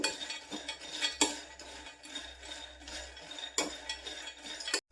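Peanuts roasted dry in a pan with no oil, stirred over low heat, give steady scraping and rattling with sharp clinks of a utensil against the metal, continuous and close with no talking.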